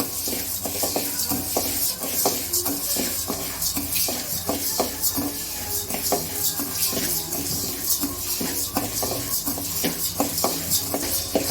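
Curry leaves dry-roasting with cumin and pepper in a pan while being stirred constantly, a rapid rustling, scraping shuffle that runs unbroken, close and fairly loud.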